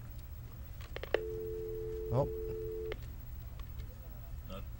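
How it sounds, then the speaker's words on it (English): A telephone call tone comes through in a studio setting, a single steady electronic tone holding for about two seconds, with brief speech and clicks around it. "That looks like we have a phone call."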